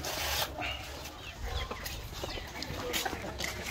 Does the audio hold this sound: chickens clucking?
yes